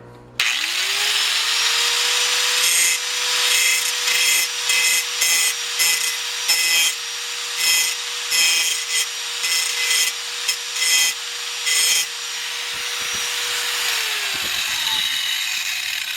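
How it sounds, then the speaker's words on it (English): A cutting disc on an angle grinder lightly grinds and rounds the tip of a steel wheel stud: a steady high motor whine throughout, broken by repeated harsh rasping bursts as the disc touches the metal, then the motor spins down. "I'm aware this is a cutting disc, but for a little light something like this, it can be used for grinding as well"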